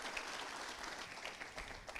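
A church congregation applauding the Lord after a testimony, a dense, fairly distant wash of clapping that holds steady for about two seconds.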